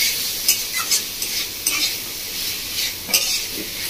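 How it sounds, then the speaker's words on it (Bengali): Grated paneer being stirred with masala in a pan over a low flame, a soft sizzle under repeated scraping strokes of a spatula against the pan, close and clear with no talk. "লো ফ্লেমে এখন মশলার সাথে নাড়াচাড়া করে নিচ্ছি পনিরটা"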